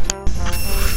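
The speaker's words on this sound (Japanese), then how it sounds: "アラーム鳴ったんで" A household alarm rings loudly and steadily in an old farmhouse being renovated, a continuous bright electronic tone filling the brief moment without speech.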